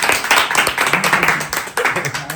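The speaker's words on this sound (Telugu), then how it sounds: "సో స్పెషల్ గెస్ట్ గా రిషి వచ్చినందుకు అందరూ చప్పట్లు కొట్టండి రా" A small group claps in quick, uneven bursts to welcome a special guest, fairly loud and near, with voices talking over the applause.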